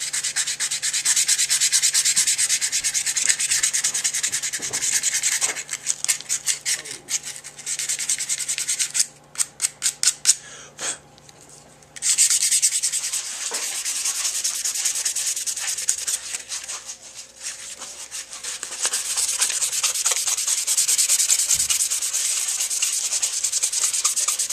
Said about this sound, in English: the next stage right now is just sanding with a variety of grits